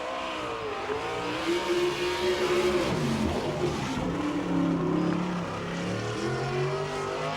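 Car 6 sprint race car at Fremont Speedway, Ohio, running a qualifying lap in an All Star Circuit of Champions event, its engine roaring loud and steady throughout, pitch rising and falling as it powers through the corners.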